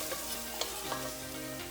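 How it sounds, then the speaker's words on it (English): Red lentils are stirred into a vegan sancocho stew in a pot, with soft scraping and a light sizzle under a few gentle spoon knocks, close and fairly quiet. "In goes our red lentils. We're gonna mix this all together."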